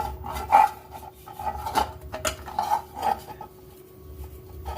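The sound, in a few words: smearing oil around the inside of a cake tin by hand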